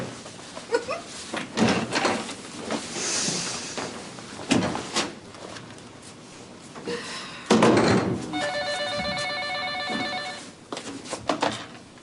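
A telephone rings in a home setting in a French television drama, its repeated electronic bell bursts sounding clearly after some door and movement noises, with no talk over the ringing.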